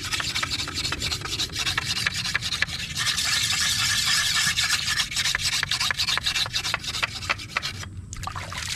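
A blade is sharpened by hand with continuous, close rasping strokes that blur into a steady scraping rub, heard alone with no talking.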